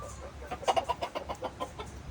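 A hybrid decoy chicken just caught on a rural farm clucks in a quick series of about a dozen rhythmic, moderately close calls over two seconds, with no talking.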